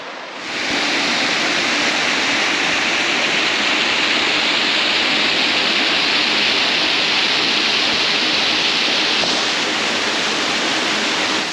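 A waterfall near Parras de la Fuente, Mexico roars in a loud, steady, broad rush of falling water, constant and close.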